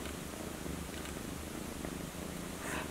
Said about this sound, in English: And he's purring.